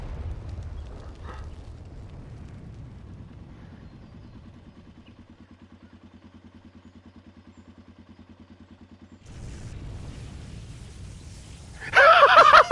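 An explosion in the video game Final Fantasy XIV: a low, rumbling drone holds for several seconds, then a loud, bright burst erupts right at the end.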